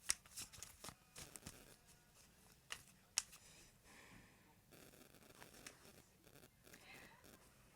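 Tarot cards being shuffled by hand, a run of crisp riffling flicks and soft papery slides with a few sharp snaps, close and fairly quiet.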